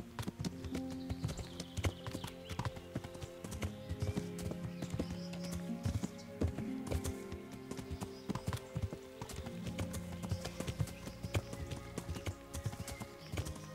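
Horse hooves clip-clop steadily in the video game Kingdom Come: Deliverance, a continuous close rhythmic patter over layered game ambience and music, with an occasional brief whinny.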